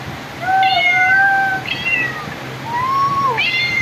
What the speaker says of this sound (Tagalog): the sounds of cat